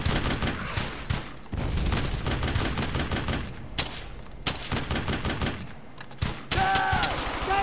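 Bursts of rapid gunfire in the World War II shooter Brothers In Arms: Hell's Highway, sharp cracks and short automatic volleys in irregular clusters, loud and close, with a brief radio-like tone near the end.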